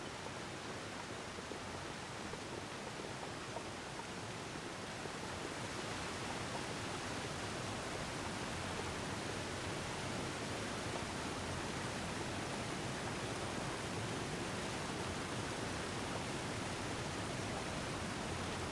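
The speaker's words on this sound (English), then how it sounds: "Oh, I see waterfall." A waterfall in the survival video game The Long Dark gives a steady, dense rushing hiss that stays constant and fairly faint throughout, with no voices over it.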